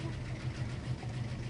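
A household washing machine runs with a faint, steady low hum and soft rhythmic churning pulses, heard quietly at close range.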